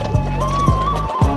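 Racehorses galloping at a Dubai horse race give a few heavy, rhythmic hoofbeat thuds over a steady, loud background hum, close by and brief.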